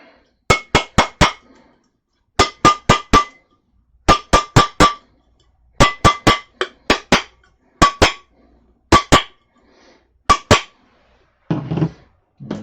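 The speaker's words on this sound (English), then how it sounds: "hammering inbound." Sharp hammer blows struck in quick bursts of three or four, with short pauses between groups, close and loud with a bright metallic ring, during a workshop build session.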